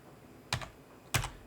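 Two short, sharp bursts of keystrokes on a computer keyboard while entering cash-count figures, each a quick pair of clicks, close and fairly quiet, with no talk.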